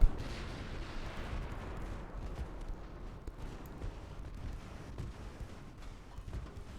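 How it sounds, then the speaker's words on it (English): Guns of HMS Renown, a British battlecruiser, firing in the naval video game Ultimate Admiral: Dreadnoughts: heavy booms and rumbling blasts at a moderate level, strongest at the start and recurring over a continuous low roar. "See if we can't close the distance while keeping all 6 guns firing here"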